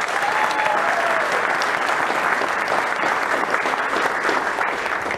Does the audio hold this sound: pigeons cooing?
no